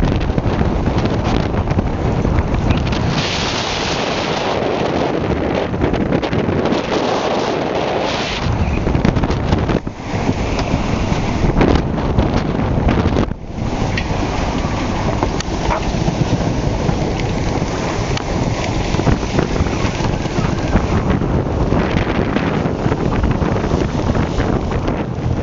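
Strong wind of about 20 knots roars steadily over a double-reefed sailboat with a small patch of foresail on open sea, a loud continuous buffeting rush with gusty swells and splashing water throughout.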